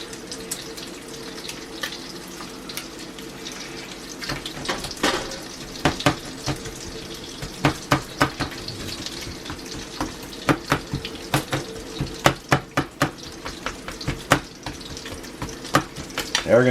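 A kitchen tap runs steadily into a sink during hand washing in a home kitchen, with scattered clinks and splashes layered over the flow at close range.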